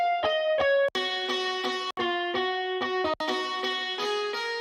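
Three layered, heavily processed guitars with OTT, brightness, EQ and reverb play a bright melodic line in clipped, distorted notes, with brief dropouts between phrases.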